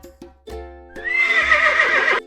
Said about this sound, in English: Nay, this one loves to gallop fast. You guessed it, it's the horse.